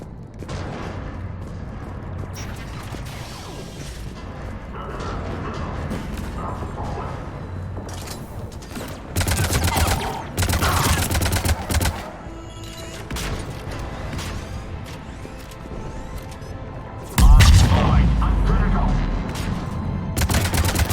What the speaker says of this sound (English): Those cannons have to be stopped.